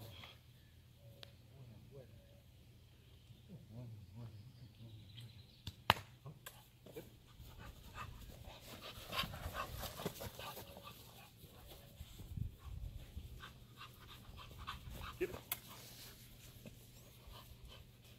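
A conditioned female dog pants and moves around during training, with soft rapid breathing, scuffing and occasional whimpers heard near, mixed with people talking.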